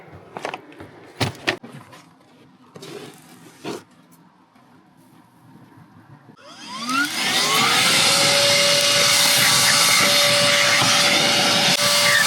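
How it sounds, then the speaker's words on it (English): A vacuum cleaner inside a van starts up after some quiet shuffling and handling noises, its motor rising quickly into a loud, steady whine and roar that runs for the rest of the clip. "let's go ahead and get our vacuum out."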